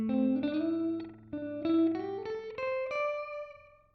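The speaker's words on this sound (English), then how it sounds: "it doesn't sound like echo anymore. It sounds like a weird room ambience, like a plate." Guitar played through a Joyo R-07 Aquarius delay pedal set to a very fast delay, a series of sustained notes whose rapid repeats blur into a roomy, plate-like shimmer. Heard alone and fairly loud.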